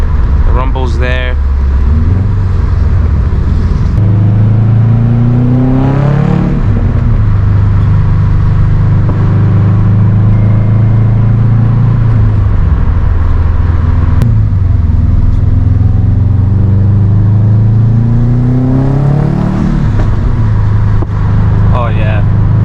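A 2007 Subaru WRX STI with a Q300 exhaust pulls hard from inside the cabin, its engine note climbing through the revs in several surges with rumble and pops, while someone talks over it much of the time.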